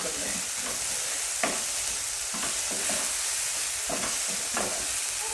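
Egg thoran fries in a pan with a continuous close sizzle, and a spatula scrapes and stirs it in irregular strokes every second or so.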